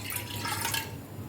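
Water poured from a cup into a wok heating on a gas stove for Gujarati lapsi, a brief steady splash and trickle heard up close with no talking.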